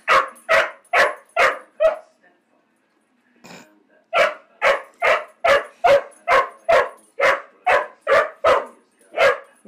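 A dog barks repeatedly at close range, loud rhythmic bursts in a steady series, a short pause with a faint whimper, then another long run of evenly spaced barks.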